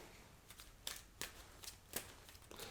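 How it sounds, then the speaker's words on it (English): Pokémon trading cards being shuffled, a quiet close-up series of crisp riffling snaps at irregular intervals over a hushed background. "Let's get a nice shuffle"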